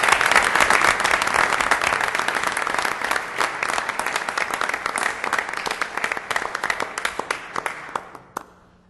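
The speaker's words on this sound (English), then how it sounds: "they deserve a round of applause" A council meeting audience applauds citizen volunteers with sustained, dense clapping that gradually thins into a few scattered claps before fading out.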